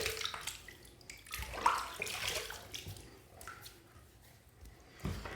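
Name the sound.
water being dumped into a container for shaving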